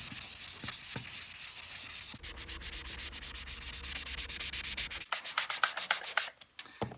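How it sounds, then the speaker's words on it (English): Hand sanding of a shotgun's surfaces before painting, loud close rhythmic rubbing strokes that change texture partway through and turn into shorter, lighter scrapes toward the end. "Just lightly sand all over, hit every single spot, every little nook and cranny so the paint will stick."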